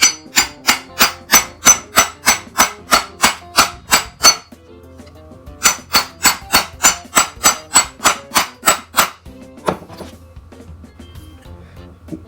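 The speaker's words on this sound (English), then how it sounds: "So now I'm going to use hammer." Repeated hammer blows tap on a Krups F203 electric spice and coffee grinder during disassembly, a fast even run of about fifteen sharp metallic knocks, a short pause, then another similar burst and a few scattered taps.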